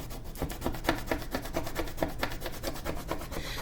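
Rapid, rhythmic scraping rasps as vinyl is scraped off plywood, repeated strokes close up and fairly quiet, with no voices.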